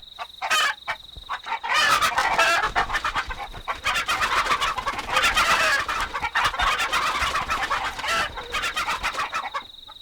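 Chickens cluck and squawk in a busy, continuous chorus at close range, with a higher steady tone running through the start and end, and no one talking.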